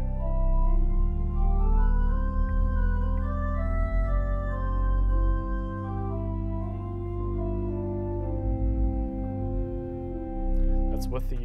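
Hybrid church pipe organ at West Raleigh Presbyterian combining real pipes and digital stops, playing a Nasat solo combination with the 4-foot flute, sustained chords and a moving melody that ring steadily with no talking.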